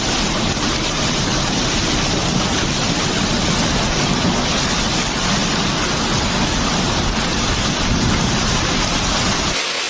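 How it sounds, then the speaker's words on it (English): A massive hailstorm pounds a city street and parked cars in China, a dense, loud, continuous roar of falling ice pelting surfaces without letup. "a massive hailstorm swept through the capital, bringing traffic to a standstill"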